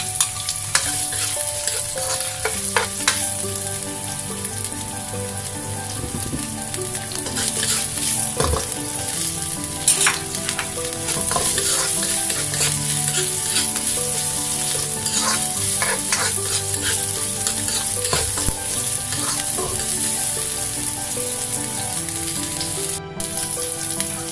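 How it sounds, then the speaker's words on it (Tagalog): Onion sautéing in oil in a pan for a chicken and broccoli stir-fry, with a steady loud sizzle running throughout and frequent scraping stirs and utensil clinks against the pan. "Gisa na yung ating onion."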